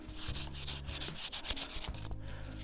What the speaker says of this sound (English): if you want to take a little bit of the yellow off, you can just sand it down a little bit